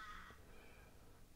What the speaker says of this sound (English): You might hear some birds in the background.